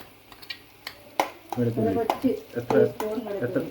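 Chopped garlic, ginger and coconut frying in a pan for a clam masala, with a steady sizzle broken by scraping stirs and a few light utensil clinks.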